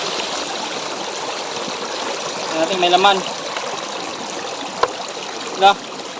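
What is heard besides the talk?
water draining from shrimp trap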